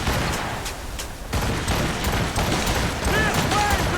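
Ship cannons in Assassin's Creed Rogue fire in a volley of booming, crackling blasts over the sea, with a steady rumble and brief whistling streaks trailing near the end.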